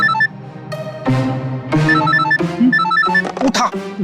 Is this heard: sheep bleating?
no